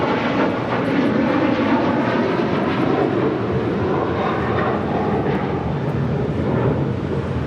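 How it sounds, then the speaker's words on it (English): A Delta Boeing 737-900ER roars down the runway at LAX on its takeoff roll, a loud, sustained broadband engine rumble that holds steady without any talk over it. "811 taking off to Miami, Florida on a 737-900 ER"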